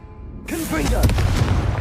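A Confringo fire spell bursts in Hogwarts Legacy with a sudden loud whoosh and blast, then a sustained roaring rumble. Speech and voiced sounds overlap the explosion.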